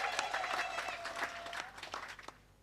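Audience clapping at a church leader's speech at a college inauguration, a brief, fairly quiet burst of scattered hand claps that thins out and fades within a few seconds.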